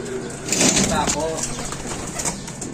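A homing racing pigeon arriving at its loft coos briefly. Someone talks over the sound throughout, and it is fairly close.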